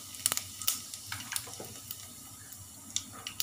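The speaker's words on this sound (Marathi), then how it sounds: "आता जिरं टाकते" Cumin seeds are dropped into hot oil in which mustard seeds are already popping, giving a faint steady sizzle broken by scattered crackles and small pops.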